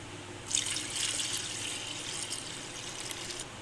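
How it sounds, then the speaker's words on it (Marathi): Water is poured in a steady stream onto washed pigeon pea lentils (toor dal) for about three seconds, a soft splashing hiss that starts abruptly and then stops. "आता या धुवून घेतलेल्या डाळीमध्ये पाणी टाकूया"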